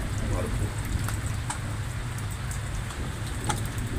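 Steady rain pours down in a dense, even hiss, with occasional louder drips and spatters standing out against the constant wash of falling water.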